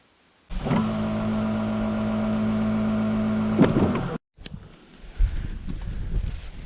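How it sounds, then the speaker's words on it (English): An electric trolling motor on a fishing boat starts with a steady, close, humming whine that holds for several seconds and then cuts off sharply, leaving wind and water noise. "We got to get up on the trolling motor and get to it"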